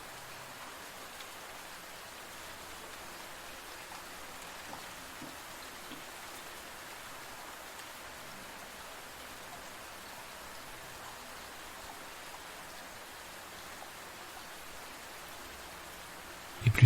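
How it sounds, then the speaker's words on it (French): Raindrops soak into a forest's soil and tree roots, heard as a faint, constant hiss of light rain with a few scattered drip ticks, no voices, and a short bump at the very end. "Des gouttes de pluie pénètrent dans les racines d'un arbre,"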